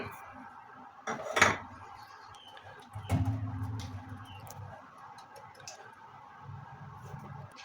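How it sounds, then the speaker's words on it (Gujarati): Rajgira flour sifted through a metal sieve set over a pot: scattered tapping and light metallic clinks with a couple of louder knocks, all over quiet background noise and without speech. "આ રીતે એક વાસણ ઉપર મેં ચાણો મૂકી દીધો છે હવે એમાં રાજગરાન લોટ ચાળી લઈએ"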